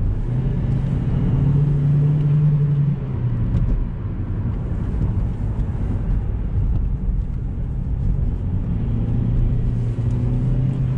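Steady interior drone of an Opel Astra J 1.4 Turbo 140 hp automatic on the road, a continuous low engine and road rumble with a brief rising tone early on, no voices.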